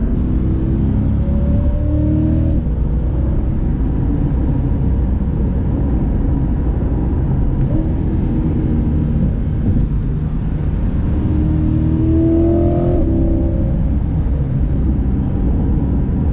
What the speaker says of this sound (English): I just love upshifting and downshifting in this car.